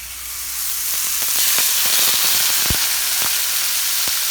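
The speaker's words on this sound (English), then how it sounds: "it's time to put the meat in the pan. You see it's smoking, that vegetable oil smoking" Palomilla steak searing in smoking vegetable oil in a pan: a loud, continuous hissing sizzle that swells as the meat goes in, with sharp spattering pops scattered throughout.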